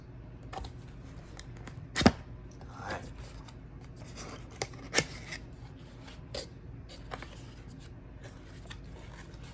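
An air duster package is unboxed up close: scattered rustles, scrapes and sharp clicks of cardboard and plastic, with a couple of louder snaps, under brief talk.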